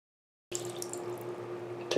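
Water runs steadily over a Fenix PD35 V2 flashlight during a submersion test, a continuous close splashing flow with a low steady hum beneath it and a brief louder burst at the end.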